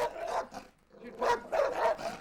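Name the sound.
dog barking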